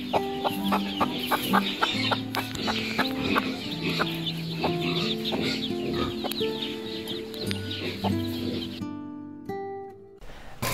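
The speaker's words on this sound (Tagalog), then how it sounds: "So itatabi ko muna siya doon sa Mami Silky niya, baka sakaling makarecover." Silkie chickens cluck in a backyard free-range flock, a busy stream of short, overlapping clucks and chirps at close range, with a brief quiet gap near the end.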